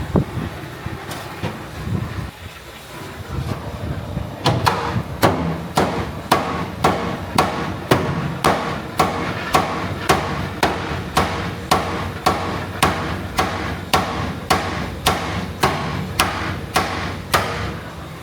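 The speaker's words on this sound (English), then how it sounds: "you peen those corners in" Metal hammer blows peen the corners of a stock derby car's sheet metal, landing in a steady, regular rhythm of loud, close strikes, about two per second, after a few scattered taps at the start.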